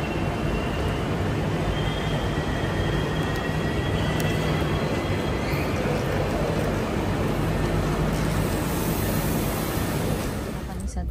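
Steady, loud rumble of a train running through Belgium from Antwerp, continuous rail and carriage noise filling the scene throughout.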